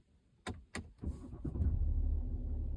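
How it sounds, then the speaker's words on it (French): A BMW X4 M40d xDrive 3.0 with 326 hp starts up: two sharp clicks, then the starter catches and the engine settles into a steady, low, rumbling idle close by. "Sans plus attendre, on va démarrer le véhicule."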